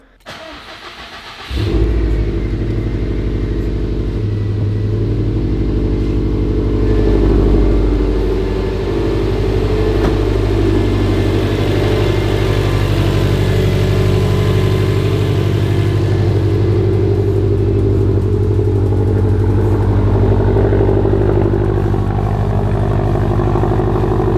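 An old car with a new exhaust, after a short crank, catches and then settles into a steady, loud, deep idle that holds for about twenty seconds, close by with no talking.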